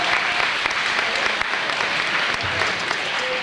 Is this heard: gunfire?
no